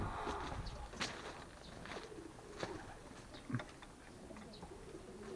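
Pigeons coo softly in a loft, giving repeated low, rolling calls over a muffled background with a few light knocks and flutters.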